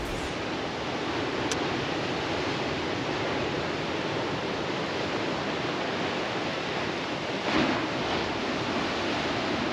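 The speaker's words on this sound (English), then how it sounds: "for now, we enjoyed the crashing ocean" Ocean surf breaking on the beach at Red Bluff, Kalbarri, a constant broad wash of rushing water with wind, steady and loud, swelling slightly near the end.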